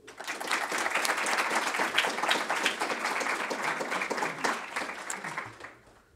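Lecture audience applauding to welcome a speaker, a dense, steady wash of many hands clapping that holds for several seconds and then fades out.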